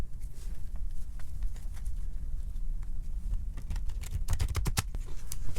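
Tarot cards are shuffled close by, soft riffling and scraping that builds into a quick flurry of sharp flicks near the end.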